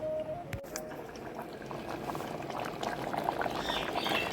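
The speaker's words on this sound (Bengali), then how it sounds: "ডালটা আমার খুব ভালো মতো ফুটে উঠেছে।" Chickpea dal (cholar dal) bubbles vigorously in a pressure cooker, a dense and steady close-up boiling burble that continues throughout without any speech.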